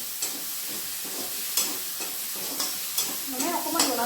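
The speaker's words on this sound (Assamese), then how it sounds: "মানে অকণমান জ্বলালৈকে ভাজি লৈছোঁ আৰু।" Pumpkin pieces fry in an oil-filled pan at home, hissing and sizzling steadily while a spoon stirs and scrapes them in regular strokes, growing busier toward the end.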